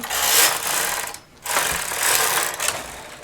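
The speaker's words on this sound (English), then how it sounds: "I'm going to loosen the machine as loose as it'll go, and I'm going to knit 1 row." A domestic knitting machine carriage is pushed across the bed to knit a single row at its loosest tension, a steady close mechanical whirring and clattering that breaks off briefly mid-pass and then resumes, with no talking.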